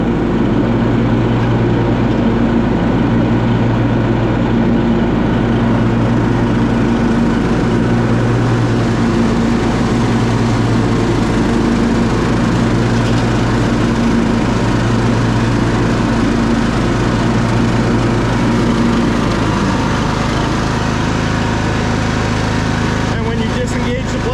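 A repaired Kohler Courage engine runs on a mower with a loud, steady drone and a pulsing low throb that holds constant throughout.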